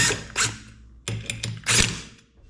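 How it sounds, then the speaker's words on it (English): Steel bolt being turned into the threaded holes of a Ford Focus MK3 rear brake rotor to push it off the hub, giving a few separate metallic clicks and scraping bursts up close, with no talk. "Find yourself a bolt that fits it, and watch this. You just walk your drum or rotor right off."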